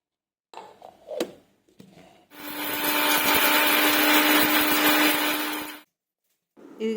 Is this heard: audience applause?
no